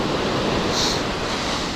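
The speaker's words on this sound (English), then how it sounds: "You can see the water crashing off it." Ocean surf washing in at Bavaro Beach, Punta Cana, as a steady broadband roar with constant wind noise over the microphone, no voices.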